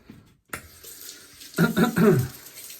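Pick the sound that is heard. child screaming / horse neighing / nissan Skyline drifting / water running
water running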